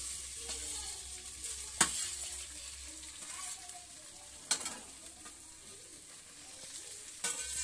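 Cooked rice stirred into jeera rice in a pan makes a soft, quiet sizzle and rustle, broken by a few sharp spoon clinks against the pan at intervals.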